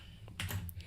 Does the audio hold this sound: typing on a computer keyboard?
yes